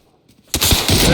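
Gunfire in a video game: a near-silent moment breaks into a loud, sudden burst of rapid, rattling automatic shots that continues to the end.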